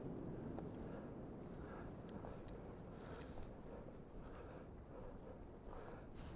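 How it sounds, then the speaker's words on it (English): Strong outdoor wind, gusting up to about 30 mph, buffets the microphone with a steady low rumble that swells and eases slightly. It stays faint and fairly even throughout. "It's super windy now"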